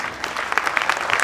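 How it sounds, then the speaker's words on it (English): Applause at a bass fishing tournament award ceremony, a short burst of steady clapping from a small crowd. "Give a round of applause, if you would,"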